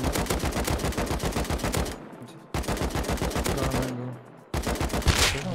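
Rapid bursts of in-game rifle fire during a Rust firefight, loud and close, with dense repeated shots broken by brief pauses.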